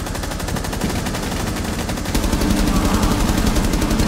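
Rapid automatic gunfire in a first-person shooter match, steady and loud. The bursts rattle continuously and grow heavier toward the end, with no voices over them.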